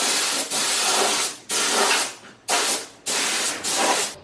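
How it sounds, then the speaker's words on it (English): Spray putty hisses from an aerosol can onto a car dashboard in four loud, close bursts, each about half a second to a second long with short pauses between. "I've got some spray putty, and that's going to go over the dashboard there"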